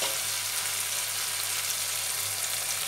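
Marinated mutton hits softened frying tomato masala for a dhaba-style mutton curry, giving a dense, steady sizzle and hiss that stays loud and even throughout.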